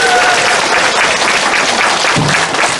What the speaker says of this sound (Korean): 다시 한번 뜨거운 감사의 박수를 부탁드립니다